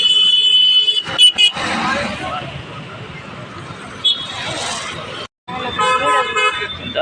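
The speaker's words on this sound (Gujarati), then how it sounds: "તો જો ભાઈ ટ્રાફિક અહીંયા આખો રોડ ભર્યો છે" A crowded city road in Surat jammed with traffic: repeated near car horn toots and honks over a constant rumble of vehicles, with someone talking throughout.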